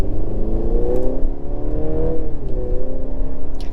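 A 2023 Mercedes GLC300 4matic pulling hard through 3,000 to 4,000 RPM, its engine note loud and close, rising steadily with a brief dip near the middle before climbing again, no talk.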